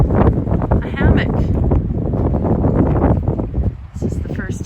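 Gusty wind buffets the microphone on a shore during a kayaking trip in the Broughton Archipelago, a loud rough roar that swells and dips throughout, while a voice talks under it.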